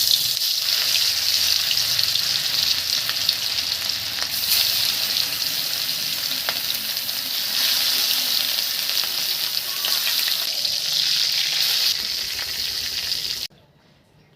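Fish sizzles in hot oil in a wok for a ridge gourd and fish curry, a loud, steady frying crackle with stirring that runs for several seconds before cutting off abruptly.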